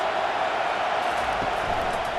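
Steady, loud roar of a stadium crowd in a college football video game, Florida versus Texas, a continuous broadband wash of cheering noise with no distinct breaks.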